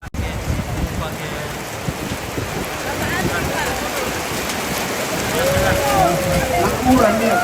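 Rain falling steadily outdoors at a funeral gathering at a Toraja tongkonan, a continuous dense hiss with scattered drops, while people talk and call out faintly in the background.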